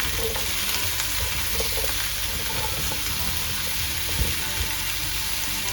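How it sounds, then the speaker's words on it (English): Pumpkin being stirred in a frying pan, a constant loud close sizzle with soft scraping and occasional light knocks of the utensil throughout. "you can add in the pumpkin. Just stir that through."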